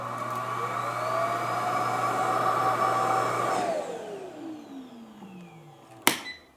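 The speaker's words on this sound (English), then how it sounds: "put this whole thing into this cradle. And it just kind of sucked away all the dust that's inside" The Ecovacs T30S Combo station empties its hand vacuum with a loud, steady suction roar that winds down with a falling whine, followed by a sharp click near the end.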